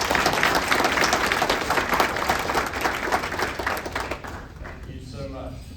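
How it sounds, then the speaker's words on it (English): An audience at an economic development appreciation lunch applauds in dense, steady clapping for about four seconds, which then tapers off under a voice. "let's give them a round of applause"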